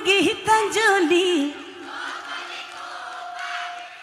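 A crowd at a Bihu stage show sings along with a lead vocalist: a strong melodic voice rises over massed voices, then fades into a softer, broad wash of crowd singing.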